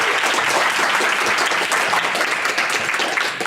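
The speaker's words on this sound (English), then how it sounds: "Please give him a clap as he comes to the stage." Steady audience applause at a London talk event as a speaker comes to the stage, a dense, even wash of clapping filling the whole moment with no voices over it.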